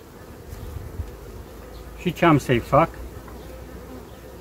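A honeybee colony that has refused a newly introduced queen hums with a steady low buzzing throughout, and someone speaks briefly in the middle.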